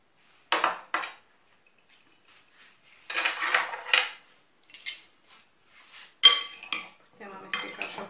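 Dishes and cutlery clink in short bursts as chicken, green beans, potatoes and boiled eggs are tossed in a bowl, a few close scraping clatters separated by quiet pauses.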